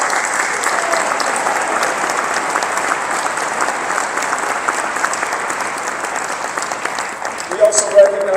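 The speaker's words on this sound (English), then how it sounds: "give them a round of applause" Sustained applause from a big crowd of around 1,200 at the Harvey Milk Diversity Breakfast in the Coachella Valley, a dense, loud wash of clapping that runs the whole time, swelling slightly near the end.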